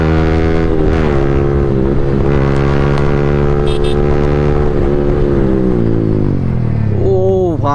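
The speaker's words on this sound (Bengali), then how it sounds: "আজকে ফার্স্ট টাইম ডিউক 200 সাউন্ড শুনতে চলেছি ভাই" A KTM Duke 200 motorcycle exhaust drones loud and close, a steady rumbling engine note that holds and then shifts pitch near the end, with no voices.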